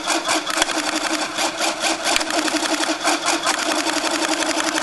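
A radio-controlled model engine in a Galloping Ghost radio control setup buzzes loudly and continuously nearby, with a rapid pulsing rhythm as the throttle responds.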